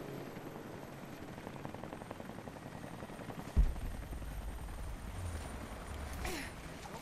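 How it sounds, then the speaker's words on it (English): A helicopter landing in the video game Rise of the Tomb Raider, a steady rotor drone with rhythmic chopping and a sudden thump partway through, all fairly loud and continuous. "Best to get the helicopter landing here."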